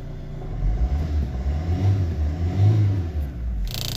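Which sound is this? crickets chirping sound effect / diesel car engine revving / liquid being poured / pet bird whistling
diesel car engine revving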